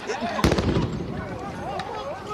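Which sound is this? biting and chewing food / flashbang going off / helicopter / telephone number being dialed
flashbang going off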